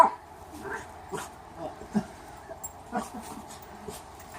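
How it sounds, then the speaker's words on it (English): A puppy whimpers and gives soft, short yips in an uneven rhythm, close by, with a faint hum underneath. "Don't you hear the worry in her bark?"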